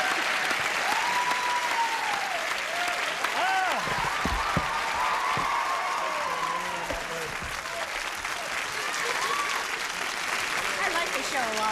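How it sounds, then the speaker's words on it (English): Studio audience applause on a 1978 television game show, a steady, even sheet of clapping throughout, with whistles and a few voices briefly rising over it. "to greet her properly, we must give her a little polite applause"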